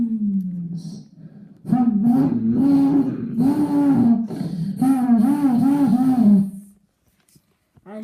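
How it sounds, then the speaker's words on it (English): NASCAR race car engines firing up at Daytona after the start command, a burst of loud roaring revs that rise and fall for several seconds close by before cutting off into quiet. "As you hear the drivers firing up their cars"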